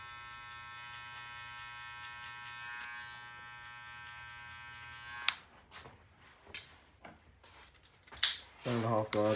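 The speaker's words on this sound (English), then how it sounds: "grab your clipper, closed, and then open again" An electric hair clipper used for a mid taper fade hums with a steady, close buzz for about five seconds, then cuts off, followed by scattered clicks, handling noises and a brief voice.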